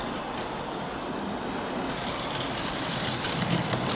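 A DJ Models Hunslet Austerity model steam locomotive hauls a train, a continuous, loud rolling rumble with clattering texture running steadily along track nearby.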